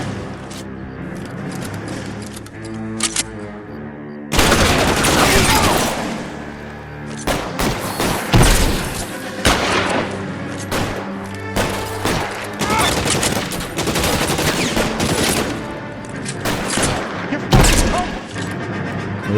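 Gunfire in the 1940s crime video game L.A. Noire: loud, close bursts of shots, a heavy volley followed by a dense run of rapid, irregular cracks that continue throughout.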